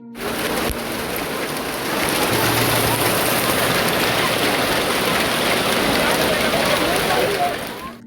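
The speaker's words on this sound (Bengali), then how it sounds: "প্রায় 1 ঘন্টা ধরে এই মুষলধারে বৃষ্টি হলো।" Heavy rain pours steadily onto Mall Road in Mussoorie during a storm. The roar is dense and continuous, with a voice speaking faintly beneath it.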